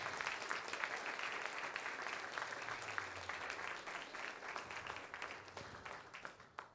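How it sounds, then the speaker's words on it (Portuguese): Sustained applause from a church congregation, many hands clapping in a continuous, slightly uneven patter that gradually tapers toward the end. "Vamos aplaudir ao Senhor,"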